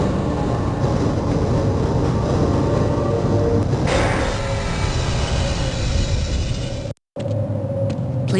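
A tram ride in the Half-Life video game: a rail car rumbles and clatters steadily, with a sharp brief cut in the sound near the end and no speech over it.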